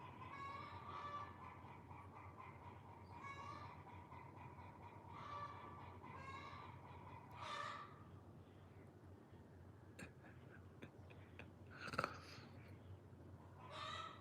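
Chickens squawk and cluck in a series of faint, spaced calls over a low constant hum, with a sharper, louder call near the end.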